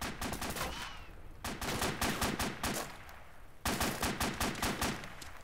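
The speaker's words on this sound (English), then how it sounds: "you might see about that gunfire's coming from the tank" Rapid bursts of gunfire from a tank in a video game rattle out loud and close, two long volleys split by a short gap, with no talk over them.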